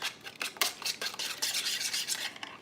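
Quick rhythmic whisking in a bowl, with ingredients seasoned with Chef Paul Prudhomme's poultry seasoning, making close, scratchy, rapid strokes with short pauses and no talking.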